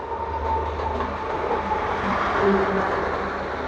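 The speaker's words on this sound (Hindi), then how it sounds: "ट्रेन जा रही है" A train rolls past outdoors in India, a steady, loud rumble with faint clacking of wheels on rails sustained throughout, with no talk over it.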